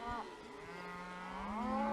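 Cattle being moved with horses, one long low moo near the start and a second drawn-out bellow rising toward the end, close and fairly loud with no talk.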